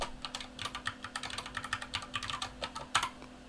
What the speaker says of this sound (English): So I type in my password, hopefully correctly